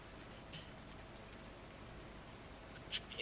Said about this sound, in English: I can't do any harvesting while it's raining.